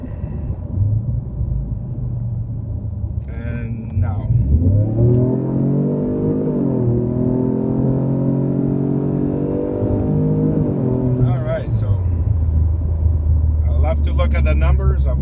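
Car engine accelerating hard in sports mode during a boost test, a close rising rumble that climbs in pitch and then drops back, with a person talking over it at the start and end.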